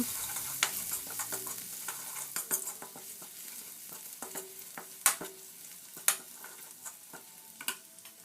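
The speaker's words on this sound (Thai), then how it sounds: "แล้วนำลงไปผัดในน้ำมันให้หอม" Steady sizzling of pounded chili and garlic frying in hot vegetable oil, with scattered crackles and the clink of a utensil stirring in a pan.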